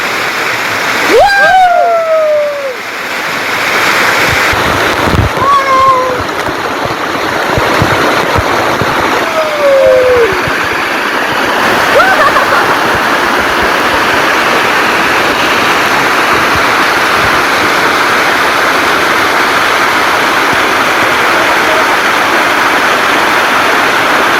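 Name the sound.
waterfall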